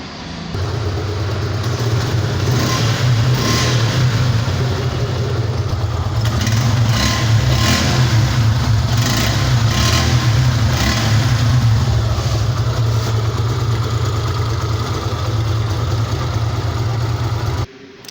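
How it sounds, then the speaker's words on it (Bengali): A 2024 Suzuki Gixxer Monotone motorcycle engine running close by, a steady low throbbing idle that swells into throttle blips and eases back, loud and continuous for about eighteen seconds. "আপনাদেরকে বাইকটির সাউন্ড কোয়ালিটিটাই পিক আপ টেনে এবং ছেড়ে দিয়ে আপনাদেরকে দেখাইলাম"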